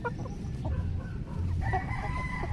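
Chickens on a free-range poultry farm cluck and a rooster crows, several birds heard at moderate distance over steady outdoor background noise.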